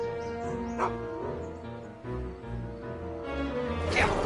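A dog barks in the Back to the Future video game, with a few yipping, whimpering barks, moderately close, under a steady tonal music bed, and a voice talks over it.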